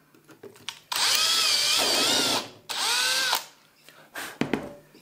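Power drill fitted with a countersinking bit boring into melamine board: two sustained loud whining runs, the first about a second and a half and the second shorter, with rising and falling motor pitch and light handling noises around them.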